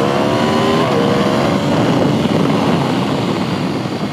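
A brand new 2017 Aprilia RSV4 RF sport motorcycle, meant for track use, produces a loud, steady engine drone that holds close and constant throughout, with no voices.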